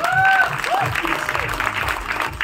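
A live audience claps for actor Nana Patekar at a crowded Indian stage event, the applause dense and steady across the whole moment, with a few faint voices mixed in under it.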